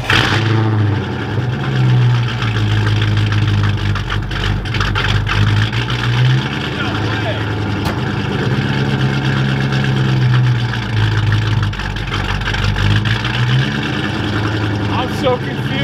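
A Fox-body car engine idles loudly and steadily nearby, a low rumbling drone with slight fluctuations in its revs throughout.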